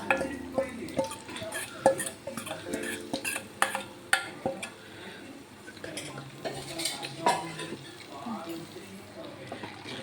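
A flour-and-milk mixture is stirred in a cooking pot with a utensil for a traditional dish of flour dumplings, giving repeated clinks and scrapes against the pot over low background noise and a light voice.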